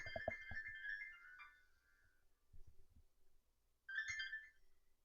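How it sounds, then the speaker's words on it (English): A phone ringtone plays a bright electronic melody in short bursts, with a pause and then a second ring, clear against near silence. "That's my phone."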